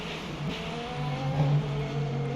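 Race car number 8 running flat out down the Mulsanne straight at the 24 Hours of Le Mans in the Le Mans Ultimate game, a steady droning engine note that swells slightly, heard alone.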